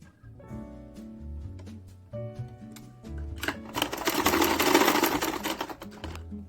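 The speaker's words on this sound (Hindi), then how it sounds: "उसके बाद हम यहाँ पर ऐसे चुन्नट देते हुए इस पे सिलाई कर देंगे।" A sewing machine stitches gathered georgette fabric for a dress, running in short bursts with a steady mechanical whir, then a longer loud run with rustling fabric, close up.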